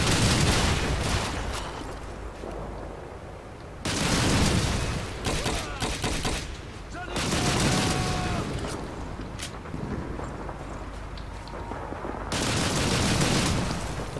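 Battle gunfire from Call of Duty 2 comes in loud, dense bursts of rifle and machine-gun fire that rise and fall in waves, with voices talking in the background between the volleys.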